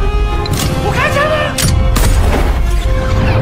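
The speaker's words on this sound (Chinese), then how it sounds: "我真的开枪了！" Several sharp, loud gunshot bangs spaced out over a few seconds in a comedy film scene, with a person talking between and over the shots.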